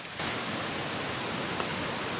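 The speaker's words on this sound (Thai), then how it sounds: "อันนี้คือน้ำตกกระอ่าง" Kra-ang waterfall in Thailand pours with a steady, dense roar of rushing water that stays close and unbroken from start to finish, with no voices.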